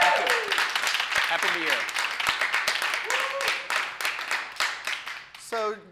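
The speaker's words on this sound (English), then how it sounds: "Let's give him a round of applause." Studio audience of a Minnesota talk show clapping for a guest, crisp individual claps under loud talk and a shouted greeting, thinning out toward the end.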